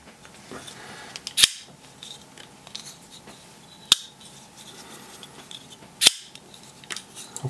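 A Shirogorov F95T folding knife is flipped open three times, each a crisp, sharp metallic snap spaced a couple of seconds apart, close to the mic over a quiet background.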